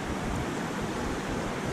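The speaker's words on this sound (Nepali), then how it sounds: "च्याखुरे टारको पुछारमा सुनकोशी नदीको सङ्गीत सुन्दै" The Sunkoshi River flows past Chyakhure Tar as a dense, steady rushing wash of water noise, close and unbroken for the whole short stretch.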